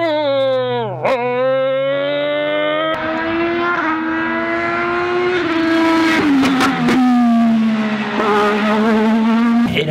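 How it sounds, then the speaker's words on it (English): Race car engines whine and rev loudly at the Sebring finals, pitches sliding up and down as cars pass close by, with a brief skid amid continuous motor noise. "You can hear the drones and you can also hear the race cars."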